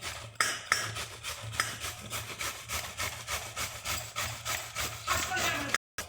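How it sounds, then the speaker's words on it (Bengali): Peeled taro root is grated in quick, regular rasping strokes, each scrape sharp and close, repeating steadily. "এবার এটাকে আমরা কুড়িয়ে নেব।"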